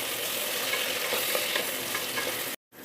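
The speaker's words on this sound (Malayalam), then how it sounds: "നെക്സ്റ്റ് നല്ലോണം മിക്സ് ചെയ്യാം." Carrots, beans and green peas stirred with fried onion and chilli in a hot pan, giving a continuous sizzle with soft scraping that cuts off abruptly near the end.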